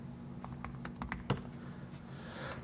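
A few quiet keystrokes on a computer keyboard as the command man ls is entered, soft irregular clicks over a low steady hum, no speech.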